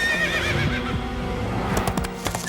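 A free-roaming horse trapped in a pit lets out a loud, close whinny with wavering pitch, followed by sharper snorts and a few hoof-like knocks, with no speech.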